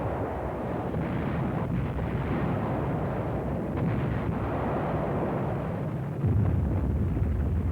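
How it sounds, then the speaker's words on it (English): Rocket launchers firing at Iwo Jima make a continuous, heavy rumbling roar with buffeting wind noise. A louder boom lands near the end. "Once its rockets were fired, the vulnerable rocket launchers quickly left the area."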